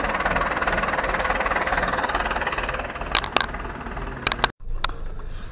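An Ursus C-360 tractor engine runs steadily with a low, knocking diesel rumble, loud and close, with a few sharp clanks and a brief dropout near the end; no speech.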